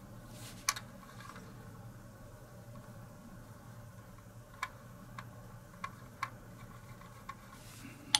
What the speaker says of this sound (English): when I'm tapping, I'm just hitting the plastic rod